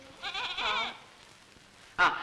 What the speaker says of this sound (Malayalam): ചെല്ലമ്മയ്ക്ക് ഒരു ആട്ടുംകുട്ടീനെ വേണം